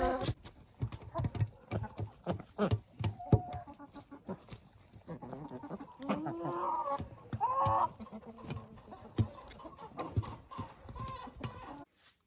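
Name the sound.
chickens eating lunch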